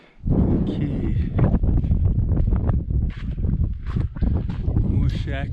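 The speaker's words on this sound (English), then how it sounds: "wind is still blowing here" Wind buffets a microphone at an abandoned gas station in Nevada, a steady, loud, low roar with gusty rustling that fills the whole stretch.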